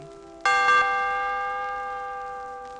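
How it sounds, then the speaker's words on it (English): A single bright chime strikes once for the page-turn cue on a 1980 Raggedy Ann and Andy read-along storybook record, then rings on with a long, slowly fading sustain. "Every time you hear this chime"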